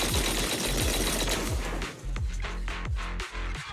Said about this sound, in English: That was the sound of a heavy cannon?